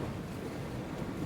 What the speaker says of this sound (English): The ship groaned, it creaked. The thick planks shook when the waves broke over the deck.